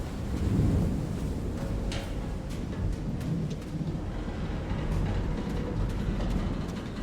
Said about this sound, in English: the freaking lightning sounds are loud